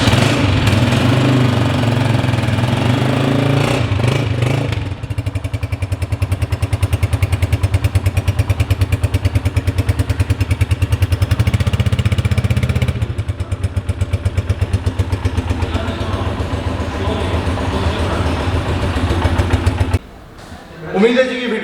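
Honda 125 Special Edition motorcycle from 2022 with self start, its single engine running at a steady idle with a rhythmic, close thumping putter for most of the time before cutting off near the end.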